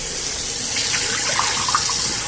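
Water streams steadily while a boa's water dish is refilled during snake enclosure maintenance, a close, loud, continuous gushing pour with no talking.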